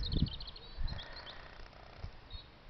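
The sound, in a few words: birds singing outdoors in the early morning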